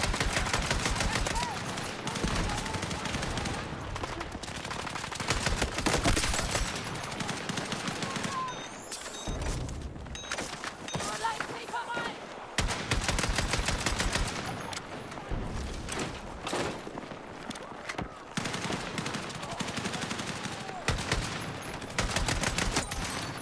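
Video game shooter gunfire crackles in repeated rapid bursts of automatic fire, loud and close, separated by short gaps, with a voice occasionally talking in between.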